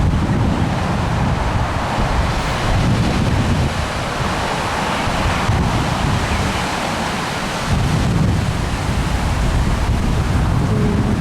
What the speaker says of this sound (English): There's some fairly good waves going and some surfboarders are out there catching some waves